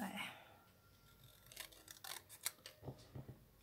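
Scissors snip across paper for a craft embellishment, a quick series of crisp, close cuts of varying strength, with faint background sound between them.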